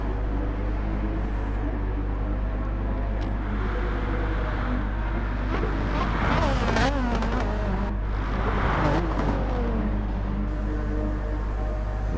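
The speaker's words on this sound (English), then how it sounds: "So a steady line of cars coming through the hairpin now." Race cars in Gran Turismo 7 stream through the hairpin at Deep Forest, a steady line of engines droning and whining as they pass, with a low constant hum beneath and louder passes swelling midway.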